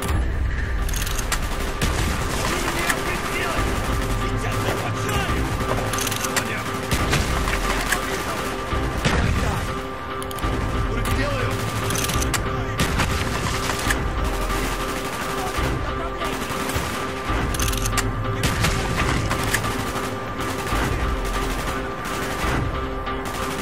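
Continuous heavy gunfire in Call of Duty: Black Ops, rapid automatic bursts and booms layered over a dense battle din, with no pause throughout.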